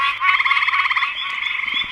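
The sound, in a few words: leopard frogs croaking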